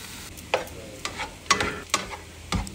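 Onions and then tomatoes hit hot oil in a pan, giving a steady sizzle broken by several sharp bursts and stirring scrapes about every half second, close up with no talking.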